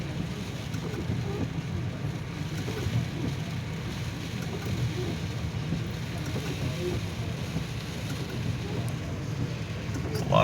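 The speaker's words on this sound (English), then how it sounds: "look at all this water rushing through the parking lot here" Floodwater rushes through a parking lot after heavy rain in Oklahoma, a steady, continuous broadband roar and wash of moving water that stays close and even throughout, with faint wind noise.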